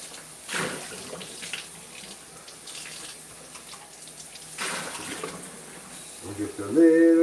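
Water splashes into a pan of reducing sauce in two short bursts of pouring and sizzling, close and moderately loud, with a clatter near the end.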